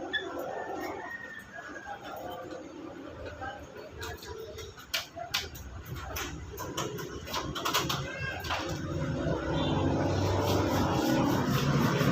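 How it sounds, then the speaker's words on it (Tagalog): A motorcycle engine warms up before a ride, a steady low rumble that grows louder toward the end, with a few sharp clicks and bird calls over it. "painitin ko muna yung ating motor para bago natin gamitin"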